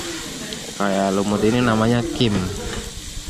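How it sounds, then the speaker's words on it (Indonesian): Dak galbi fried rice with kim, sambal and greens sizzles as it is stirred on a hot griddle at a Korean eatery, a steady frying hiss running beneath a person talking close by. "Jadi ini diaduk sampai rata kayak nasi goreng."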